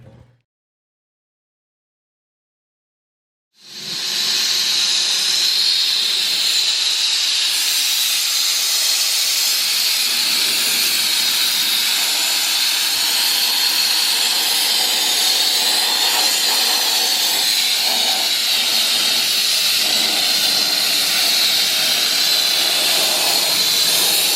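TIG welding on tubing for a 1948 Chevy convertible: after a few seconds of silence, a steady, loud, continuous hiss with a bright buzzing edge starts and holds without a break, with no voices.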